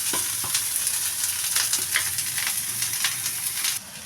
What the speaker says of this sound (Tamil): இப்போ நம்ம வெங்காயம் உளுத்த பருப்பு பச்சை மிளகா கருவேப்பிலை இது எல்லாமே நல்லா பொண்ணுமாக வந்துருச்சு